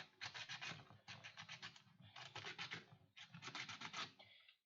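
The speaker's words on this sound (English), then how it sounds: "I'm just sanding this so I have a little bit of a rough surface" Rhythmic scraping of sandpaper roughening the surface of a handmade kunai prop, in four bursts of quick back-and-forth strokes with short pauses between, close and fairly quiet.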